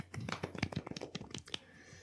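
Soft, polite golf clap from a few people in a woodworking studio in North Haven, Connecticut: quiet, quick, evenly spaced pats of the hands, close and gentle, lasting about two seconds.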